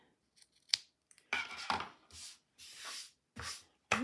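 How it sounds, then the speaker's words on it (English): Scissors snip tassel threads several times in a row, with sharp close cuts separated by short gaps and faint rustling of thread and hands between them. "you can just trim that up so that they're all"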